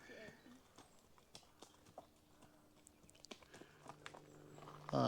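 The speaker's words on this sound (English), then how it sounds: "A lovely horse." Horse hooves clip-clop at a relaxed walking pace on a hard surface in the New Forest, moderately close, with brief speech and background sounds mixed in.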